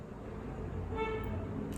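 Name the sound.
car horn honking outside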